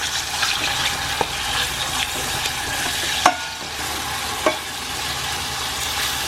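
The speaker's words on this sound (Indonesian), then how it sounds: "Sekarang kita tumis pakai mentega." Spice paste sautéing in butter, a steady broadband sizzle with a few sharp stirring clicks and scrapes of a utensil against the pan, close and continuous with no talking.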